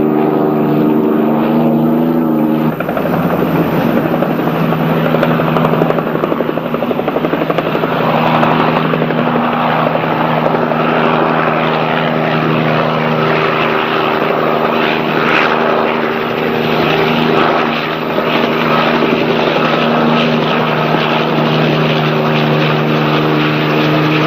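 A police patrol helicopter flies overhead during a highway search near a state line, its rotor and engine drone steady, loud and continuous throughout with no voices.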